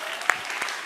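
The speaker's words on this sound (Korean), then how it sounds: "500명 박수치고." A congregation at a church new-members seminar bursts into a short wash of applause, a dense patter of many hands, moderately loud and brief.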